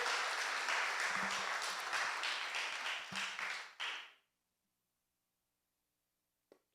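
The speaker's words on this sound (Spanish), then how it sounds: "Podemos darle un aplauso a esa gente que nos ven a través de las cámaras" Church congregation applauding, with dense clapping and a few voices for about four seconds, then tapering into scattered claps and silence broken by one faint knock.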